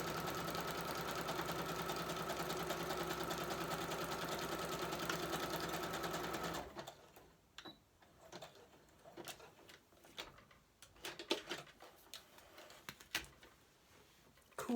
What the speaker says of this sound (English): listening to me sew, but you know, some things have to happen.